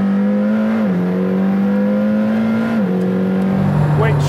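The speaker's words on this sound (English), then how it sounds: "One thing that hasn't really got any better out with the track is the noise of the engine" A loud, steady McLaren supercar engine drone with a strong low tone that shifts pitch a couple of times, gritty and mechanical, heard continuously up close.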